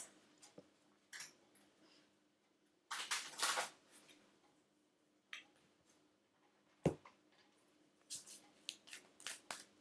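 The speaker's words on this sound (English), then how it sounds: "Let's give these a shuffle and see what card wants to come out for the weekend." A deck of cards being shuffled by hand, several short riffling and snapping bursts separated by quiet pauses, close and fairly soft.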